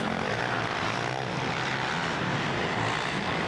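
Motocross bike tearing through berms on the Southwick sand track, a loud continuous engine roar that stays close and sustained throughout, with no talk.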